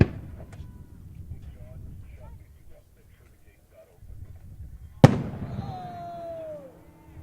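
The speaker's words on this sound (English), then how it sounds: "these are handmade fireworks, folks" A handmade firework bursts with one sharp, loud bang after several quiet seconds of low rumble and faint crackle, followed by a descending whistle-like tone and fading crackle.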